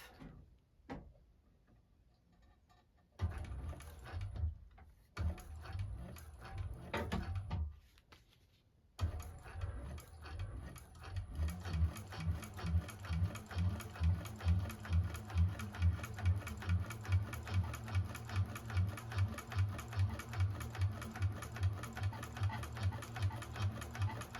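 A 1341 cylinder arm sewing machine stitching and back stitching a bag seam: a few short bursts of needle chatter at first, then a long, steady run of rapid rhythmic clatter, close and clear, no talking.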